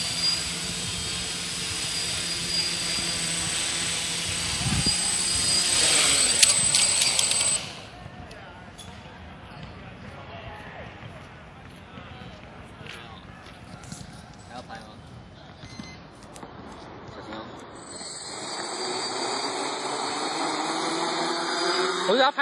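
A small quadcopter drone hovers and comes in to land outdoors, its buzzing rotor whine loud at first, then dropping and fading before rising again near the end, with people talking throughout.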